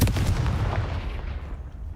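The Confringo blasting spell goes off in the video game Hogwarts Legacy as a loud, booming blast that decays into a rumbling tail, with nothing else over it.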